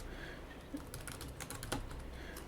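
Code typed on a computer keyboard, a quick run of soft clicking keystrokes in an irregular burst, close and fairly quiet.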